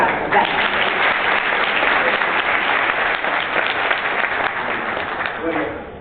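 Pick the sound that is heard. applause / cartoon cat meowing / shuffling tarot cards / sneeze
applause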